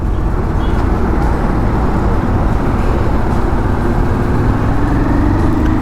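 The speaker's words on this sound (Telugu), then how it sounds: "సండే కూడా ఇంత ట్రాఫిక్ ఉంది హైదరాబాద్లో" Steady road traffic in Hyderabad on a Sunday, a dense continuous rumble of cars and other vehicles passing nearby, loud and unbroken throughout without distinct horns or voices.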